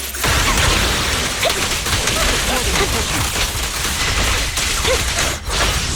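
Dense rapid gunfire from the Zenless Zone Zero video game, a continuous loud barrage of shots and whooshes over a full combat soundscape.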